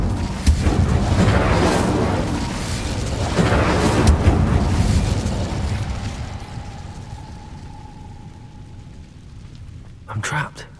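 The Incendio fire spell in Hogwarts Legacy bursts out as a loud roaring whoosh of flame, sustained for several seconds before dying down, followed by a faint tone and a brief clatter near the end.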